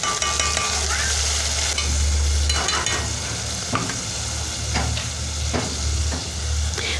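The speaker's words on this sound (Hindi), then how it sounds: "टमाटर को अच्छे से भूनेंगे" Onions and tomatoes fry in a pan with a steady, close sizzle, while a spoon stirs and scrapes through it at intervals; no one speaks.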